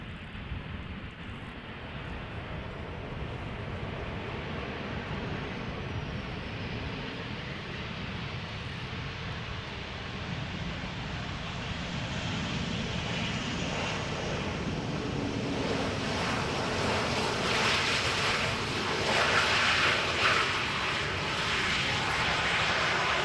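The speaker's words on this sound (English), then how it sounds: "Royal Air Maroc arriving from Nador." A Royal Air Maroc airliner arriving from Nador at Amsterdam Schiphol produces a continuous far-off jet rumble with wind-like rushing that gradually grows louder and brighter as it approaches, with no talking.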